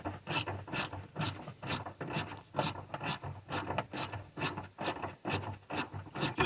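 A ratchet works loose a 10 mm bolt on a 2006 second-generation Prius hybrid battery, giving a rapid, even run of rasping clicks over several seconds, close and alone.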